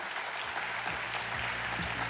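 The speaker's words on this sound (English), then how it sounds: "How about a big round of applause?" A studio audience gives a big round of applause to thank guests, a dense, even wash of many hands clapping at once, loud and continuous for about two seconds, with no talk over it.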